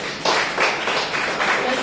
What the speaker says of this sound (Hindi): जोरदार तालियां अपने लिए बजाएंगे।